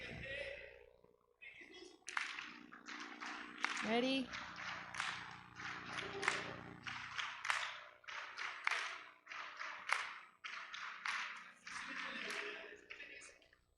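An audience at an anniversary event claps on request in a quick burst of dense, sharp applause filling most of the stretch, with someone speaking briefly beforehand.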